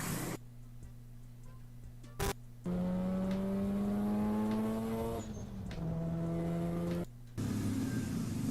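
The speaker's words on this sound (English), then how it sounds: "he just like just built up the engine over and over and over again, and it sounds insane." A four-rotor rotary engine car revs hard, its droning note climbing in pitch, dipping briefly, then rising again, heard fairly faint and slightly distant with short gaps.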